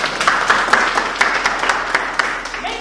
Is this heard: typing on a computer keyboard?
no